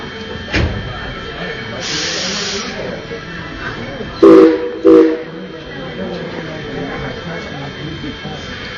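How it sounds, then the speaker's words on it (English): Steam train whistle on a steam train ride around Dollywood, sounding twice in short blasts over a steady background hiss and rumble of the train, with a brief voice present. "Those two whistles you just heard tells us that the engineer has received the all clear"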